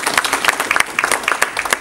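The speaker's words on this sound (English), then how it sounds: "Let's give them a hand clap." Conference audience at an anti-corruption forum clapping for session chairs: a short, dense burst of many hands applauding close by, with no voices.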